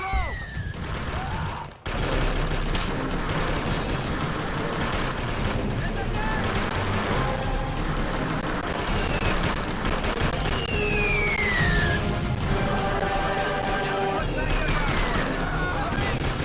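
Artillery support fire in a combat video game: dense, continuous booming and gunfire volleys roll on loudly for the whole stretch, with a brief dip near the start and whistling shell sweeps overhead.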